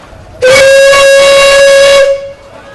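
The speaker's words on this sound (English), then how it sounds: "we are going to be blowing the whistle on the Nichols and Shepard steam engine" A Nichols and Shepard steam engine whistle sounds one long, loud, steady blast lasting nearly two seconds at a pioneer days parade, hissing and shrill, then fades into quiet hiss.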